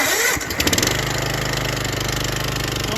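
A Cub Cadet CC600 walk-behind mower's engine starts electrically with a brief cranking whir, catches, and settles into a loud, steady close-up idle.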